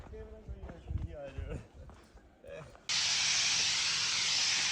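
Tomato plants being sprayed in Italy with a sprayer: talk and movement at first, then a loud, steady spray hiss starts abruptly near the end and holds to the close.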